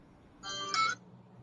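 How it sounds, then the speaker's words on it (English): A phone ringtone plays an incoming-call tune for about half a second, clear and fairly close, over a quiet room during a live modelling show. "Phone call."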